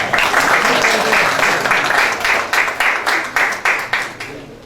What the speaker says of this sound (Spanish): Lo recibo con un fuerte aplauso